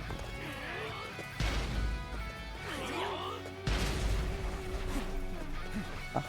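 Horses in the video game Dynasty Warriors Origins, whinnying calls over galloping hooves and crashing battle noise, with someone talking over the action.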